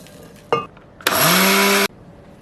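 A blender grinds banana, curd and quinoa in its jar in one loud, steady burst lasting about a second, with a brief knock just before it starts.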